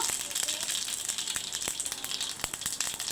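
Mustard seeds and cumin sizzle in hot oil, a bright continuous crackle dotted with sharp pops from spattering seeds, close and steady throughout.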